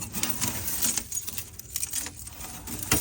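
Small metal pieces from a failed CVT transmission belt clinking and jangling as they are handled up close, a continuous light rattling of loose metal bits.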